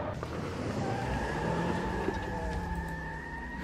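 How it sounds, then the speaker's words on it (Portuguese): A car engine hums steadily at close range, a sustained motor drone with a faint tire squeal, running without talk over it. "o carro parando lá"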